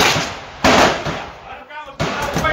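Rimfire shots from a Ruger Precision Rimfire rifle on an outdoor range: two loud, sharp reports about 1.4 seconds apart, each trailing into ringing noise, with faint voices in between.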